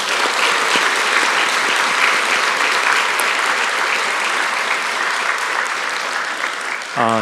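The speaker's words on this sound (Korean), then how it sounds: "우리 교사들을 위해서 한번 박수하겠습니다." A church congregation applauds its Sunday school teachers, steady dense clapping filling the room at full volume for several seconds before a brief tone near the end.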